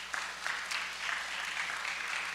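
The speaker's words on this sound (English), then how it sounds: "if you'd stand up so that we can give you an applause" A church congregation applauds the band, a steady, dense wash of many hands clapping at a modest, fairly distant level with no voices on top.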